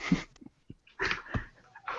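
A pack of Death Dogs in a video game: short growls, snarls and panting bursts in uneven clusters, fairly close and moderately loud, with brief quiet gaps between them.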